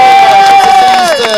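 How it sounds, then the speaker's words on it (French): Crowd at a French women's race podium ceremony in Beaumont-le-Roger cheering and applauding the girls, a loud, dense swell of voices and clapping with a whistle-like tone held throughout. "on applaudit les filles"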